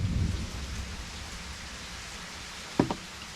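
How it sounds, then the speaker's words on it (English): A thunderstorm outside brings steady rain hiss with a low rumble at the start and a short double thud near the end, all moderately quiet and without voices. "We now have a thunderstorm raging outside."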